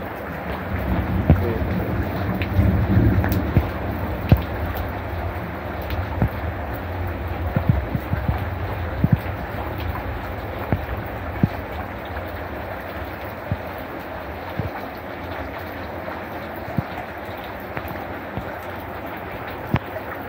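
Steady rain falls in a fairly heavy shower outdoors, a continuous broad wash of patter with scattered sharper drips and splashes, plus low rumbling noise that eases after the first few seconds.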